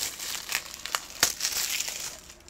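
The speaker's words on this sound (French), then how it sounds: "Je vais le déballer." Crisp plastic wrap crinkling and tearing as The Matrix Resurrections 4K Ultra HD Blu-ray case is unwrapped, with close, irregular rustles and a few sharper crackles, no talking.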